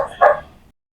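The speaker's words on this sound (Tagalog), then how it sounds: "ang iingay kasi ng mga aso dito sa amin eh" A single dog bark rings out sharply, fairly close, followed by a brief fading tail and then silence.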